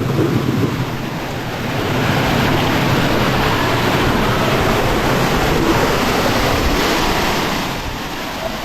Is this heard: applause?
no